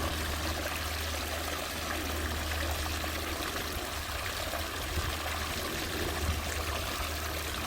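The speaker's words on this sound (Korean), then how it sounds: "저쪽으로 역류해 버리네" Drain water backflows through a house sewer pipe, a steady rushing, trickling flow with a low rumble that stays constant and fairly loud throughout.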